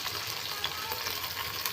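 A paste of tomato, carrot, ginger and cumin sizzles and hisses steadily in a hot pan while being stirred, with continuous close frying crackle and no talk.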